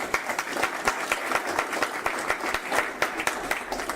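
Audience at a community meeting applauding, a mix of individual claps and a continuous patter, moderately loud and steady for several seconds with no voices on top.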